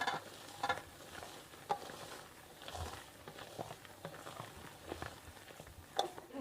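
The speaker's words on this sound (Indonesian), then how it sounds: "kita aduk-aduk aja" Marble cake batter being stirred in a bowl, with egg whites folded into a mix made with cold margarine; soft, uneven scraping and wet sloshing strokes, fairly quiet and close, with no one talking.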